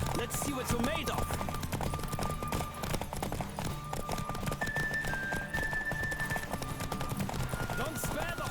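Hooves of a galloping horse pound in a quick, driving rhythm within The Witcher 3 game, loud and close, layered with background music throughout.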